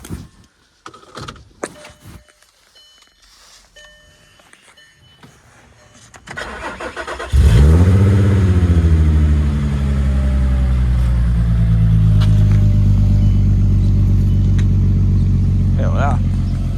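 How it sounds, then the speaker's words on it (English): A car is started cold and settles into a loud, steady idle close by, with clicks and faint movement beforehand and a voice heard in the clip. "Got a cold start on the Goon."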